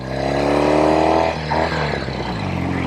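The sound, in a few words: Norton Commando 850 motorcycle engine accelerating through gears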